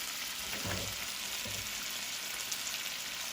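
Bacon fries in a pan over moderate heat, filling the moment with a steady, close, even sizzle and crackle, with a couple of faint spatula touches near the start.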